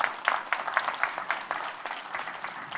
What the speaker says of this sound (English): you can clap for Steve, that was great.